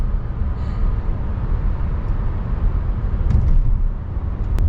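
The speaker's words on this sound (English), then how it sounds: "Another tram." A tram rolls along a street in Düsseldorf, its low rumble steady and fairly loud throughout, swelling slightly near the end with a faint metallic squeal, heard from inside a car amid general traffic noise.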